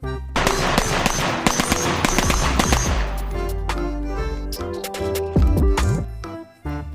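Toy M4 gun firing a sound effect: rapid electronic machine-gun bursts, loud and close, followed by softer beeping tones and clicks.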